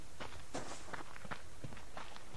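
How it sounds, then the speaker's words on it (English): Footsteps in the survival video game Subsistence, a quick run of soft, fairly close steps padding along over faint background hiss, with no speech. "I thought I heard footsteps"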